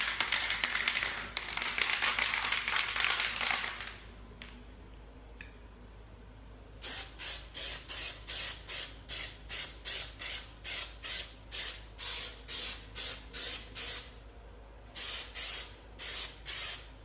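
A porcelain bathtub repair gets its first coat of paint, sprayed in a long steady hiss and then a run of short, evenly spaced bursts with brief pauses between, close and fairly loud with no talking.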